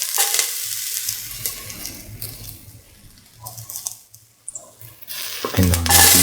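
Ginger dropped into a heated pan with hot oil sizzles and crackles softly, with stirring and scraping, and a louder burst of frying near the end, close and without talk.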